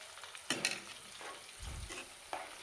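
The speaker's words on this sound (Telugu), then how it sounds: "ఉల్లిపాయలు అయితే ఖచ్చితంగా రోస్ట్ అవ్వాలండి, లేదంటే ఆయిల్లో కాస్త మాయిశ్చర్ ఉండిపోద్దండి." Onions roasting in oil for homemade herbal hair oil, soft frying crackle broken by a few stirring scrapes and a low clunk, fairly quiet and without talk.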